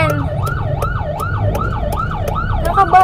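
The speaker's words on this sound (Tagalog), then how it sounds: "teka lang, may ambulansya" An ambulance siren wails in a regular up-and-down cycle as the vehicle passes close by on the road. It is loud and steady, with a faint hum of traffic underneath.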